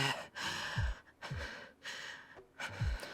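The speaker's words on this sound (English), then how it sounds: "Getting to hear Shiro's panting." Voice-acted panting from a male character in the Fate/stay night visual novel: three or four heavy, ragged breaths in a slow rhythm, close and fairly loud.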